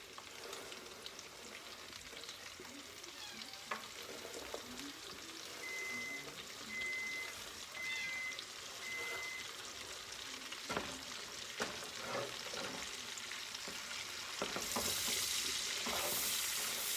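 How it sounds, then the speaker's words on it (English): Chopped potatoes and vegetables sautéing in bacon grease for corn chowder, a soft, quiet sizzle with scattered stirring scrapes and a brief electronic beep, the frying swelling louder near the end, with no one talking. "So I'm going to put all this in to be sauteing."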